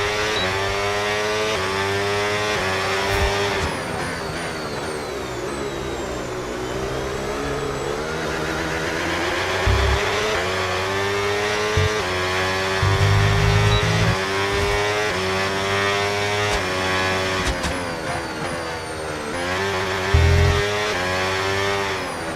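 Formula 1 cars from the F1 26 racing game scream around the Hungaroring on the final lap of the Hungarian Grand Prix, a steady high-pitched engine whine with gear-change dips and occasional bursts of a passing car, continuous and loud throughout.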